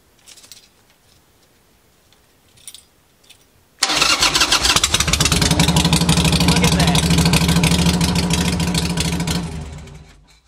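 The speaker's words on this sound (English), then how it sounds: "Bike fires right up, runs like a champ" A chopper motorcycle with a knockoff Amazon CV carburetor, with faint handling sounds before the engine fires abruptly and runs loud and steady for several seconds, then fades near the end.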